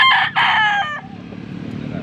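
A WPC-banded rooster crows once, loud and close in a single drawn-out call, then fades into quiet background noise.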